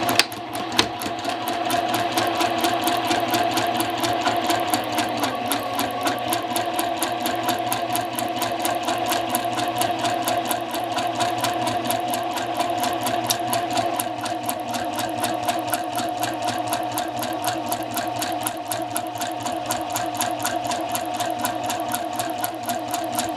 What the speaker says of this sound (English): I'm just going to stitch mine at a 1/2 inch seam allowance and then serge it to prevent fraying.